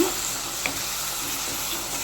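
Steady hiss of raw blended tomato puree frying in a pan for a village-style fish curry as it is stirred, a continuous close sizzle with no talking.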